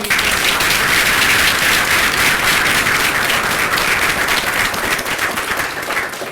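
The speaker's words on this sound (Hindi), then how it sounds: "जोरदार तालियों में" Loud sustained applause from a seminar audience in a college hall, a thick continuous roar of many hands clapping that eases slightly near the end.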